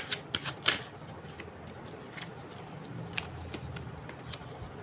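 Tarot cards riffle and slap in a quiet room, a few sharp clicks up front followed by softer intermittent flicks and shuffling rustles.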